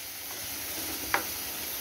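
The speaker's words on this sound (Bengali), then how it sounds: "একটু লালচে ধরনের ভাজা হয়ে যাক" Pointed gourd frying in mustard oil gives a steady, close sizzle that runs throughout, with one brief sharper crackle or pop partway through.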